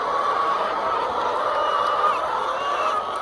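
Hens in a flock give a steady, murmuring chorus of soft clucks and calls, moderately near, forming a continuous dense backdrop without distinct breaks.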